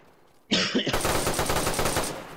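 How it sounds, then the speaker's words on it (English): Rapid automatic gunfire in DayZ on PS4 at an airfield, starting abruptly after a brief quiet and continuing as a loud, steady burst of closely spaced shots with no talk. "I'm getting shot at from somewhere, bro. There's just bullets flying by me."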